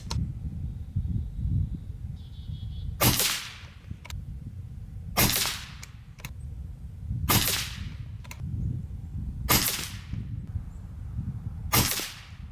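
An Avenge-X compact PCP air rifle firing 18.1 grain FX pellets, with five sharp, close cracks spaced a couple of seconds apart over a low rumbling background.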